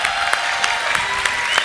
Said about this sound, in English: let's welcome Steve to the family with a great big round of applause